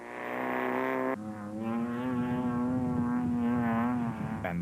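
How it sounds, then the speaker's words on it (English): A Land Rover production-class race vehicle in the Carnival City 400 off-road race, its engine droning steadily and rising in pitch as it drives past, loud and close with no talk. "that's the sound of the ever-popular Landy"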